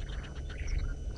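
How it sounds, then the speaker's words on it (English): Young birds beg their parents for food on a sunrise safari drive, giving quick, close chirps and tweets in a brief busy burst over a low rumbling background. "all young birds make some sort of sound, or just to annoy the parents enough so that the parents will start helping them feed"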